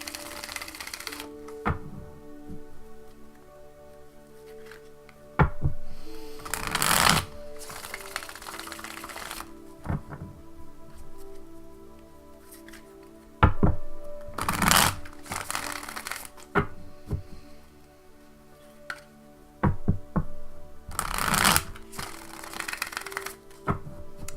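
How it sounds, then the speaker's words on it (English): A deck of tarot cards is shuffled by hand, giving soft bursts of riffling and flicking at irregular intervals across a quiet room, with brief pauses between rounds. "just a few more shuffles. I like to shuffle till my intuition says stop"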